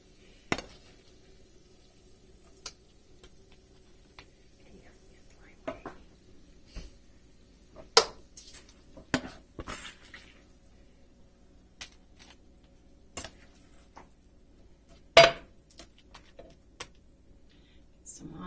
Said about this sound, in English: So I'm going to spoon this onto the chaffle.